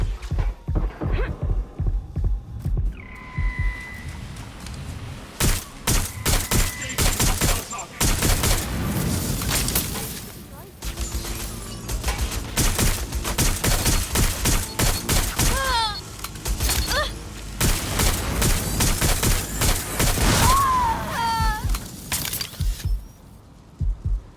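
Gunfire rings out during a police shootout in the video game Watch Dogs Legion. Loud rapid bursts and repeated shots come in waves through a continuous hum, with radio-style voices speaking over parts of the exchange.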